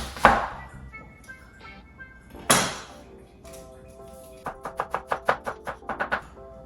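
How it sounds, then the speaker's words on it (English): Knife cutting onions on a board in a home kitchen, a couple of isolated thuds followed by a quick run of about ten rhythmic chops, close and fairly quiet. "I'm going to start by cutting up the onions"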